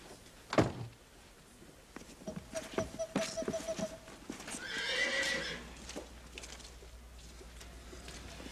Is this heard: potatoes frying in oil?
no